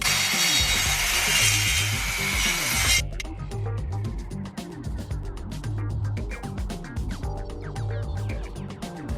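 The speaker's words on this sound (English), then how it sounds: "I'm using here a cross-cut jig to make sure the circular saw cuts the parts at a" A circular saw guided by a cross-cut jig slices through wooden parts at a square angle in a workshop. A loud, harsh burst of cutting lasts about three seconds, then cuts off, leaving a lower rumbling machine hum.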